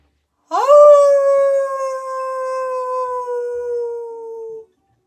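A group of people doing a yoga class imitate a wolf howl together, one long, loud, sustained wavering howl that rises at the start and slowly sinks in pitch before cutting off.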